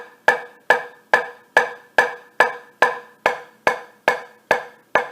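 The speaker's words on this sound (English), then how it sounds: "We're going to do a number of different basic snare drum techniques and rudiments to get you started." Crisp snare drum strokes played as steady eighth notes with alternating hands, about a dozen evenly spaced, close and clear hits with no talking.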